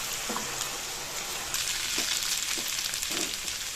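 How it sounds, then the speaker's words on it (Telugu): Potato pieces frying in a pan for aloo Manchurian, a continuous bright sizzle punctuated by a few soft stirring knocks, close and moderately loud. "ఇందాక ఆల్రెడీ రెడీ చేసి పెట్టుకున్న పొటాటో పీసెస్ వేసేసి మళ్ళీ ఒక 2 నిమిషాలు ఇందులో వేగనివ్వాలి"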